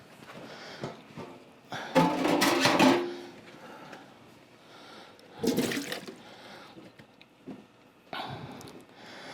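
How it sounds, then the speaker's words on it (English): Beans are rinsed under running water in bursts: three separate loud gushes of splashing flow, each lasting about a second, with quieter gaps between them. "You can use a strainer if it's easier too. But yeah, just give it a quick rinse."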